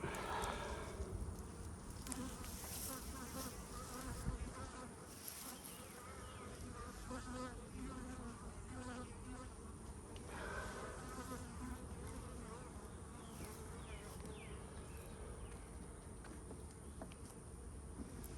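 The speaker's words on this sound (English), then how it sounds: "Not a whole lot of bees" Bees buzz busily around the exit of their hive, a dense, continuous droning swarm close to the listener with individual insects whirring past, steady throughout without speech.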